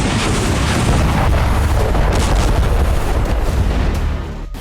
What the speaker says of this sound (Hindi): हमले में यूक्रेन के एक हथियार डिपो को तबाह कर दिया गया। दावा है कि डिपो में पश्चिमी देशों से मिले हथियार मौजूद थे, जिसकी वजह से यहां जोरदार धमाका देखा गया।